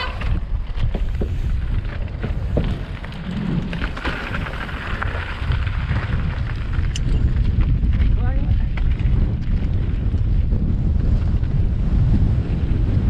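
Steady gusting wind roars across the microphone during a fast mountain bike run down the rocky Top Chief enduro track at Fort William, a constant broadband rush that thickens toward the end.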